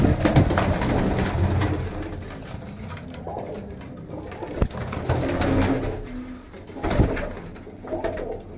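Punjabi Malwai pigeons coo in soft, repeated low throaty calls, several birds overlapping close by against a quiet background with occasional sharper bumps.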